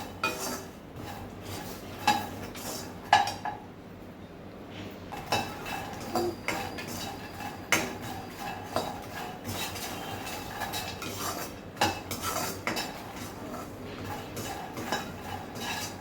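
Rhythmic scraping and clinking of a spoon stirring fox nuts (makhana) dry-roasting in a metal pan, repeated strokes every second or so, fairly quiet.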